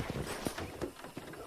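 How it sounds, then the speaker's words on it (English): Horse hooves clop at a walk in Red Dead Redemption, a steady soft patter of footfalls close by with a faint background bed and no clear whinny. "I picked out a fine horse for you."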